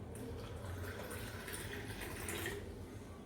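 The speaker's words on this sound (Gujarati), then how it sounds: "એમાં નાખીશું આપણે પાણી." Water poured into a glass for fennel sherbet with lemon juice and black salt, a steady close splashing stream running unbroken for a few seconds with no talk.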